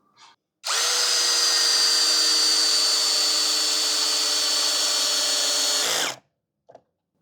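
A TECEPO 21V brushless drill driver in screw-driving mode runs in one loud, continuous high whine for about five seconds, starting and cutting off sharply, close up with no talk.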